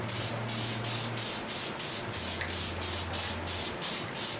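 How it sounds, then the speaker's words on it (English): One-Shot spray lube hisses in about a dozen short, rhythmic bursts onto .45 Colt cartridge cases prepared for reloading, each spurt sharp and close with brief pauses between. "I want to get them lubed up."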